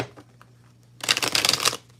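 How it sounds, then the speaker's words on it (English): A deck of tarot cards is riffled once in a short, close, crisp flurry of fluttering snaps lasting under a second, after a quiet moment. "Now that I've shuffled"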